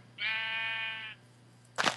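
A single sheep in Minecraft gives one clear, sustained bleat, close and loud, followed by a short sharp crack.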